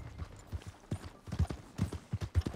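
Horse hooves clip-clop in a steady, even rhythm, likely from a video game ride, with soft thudding beats continuing throughout at moderate distance.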